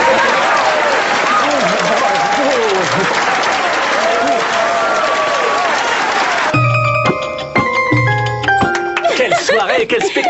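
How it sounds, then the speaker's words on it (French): Cartoon theatre audience applauding at the end of a Shakespeare performance, a dense, steady roar of clapping that fills the first six seconds before giving way to brighter musical tones and scattered claps. "Au secours, je ne peux plus m'arrêter d'applaudir."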